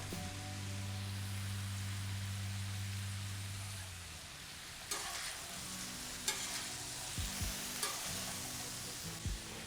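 Quiet, steady sizzling of garlic and mushrooms frying in a pan, with a low hum early on and a few soft stirring scrapes later.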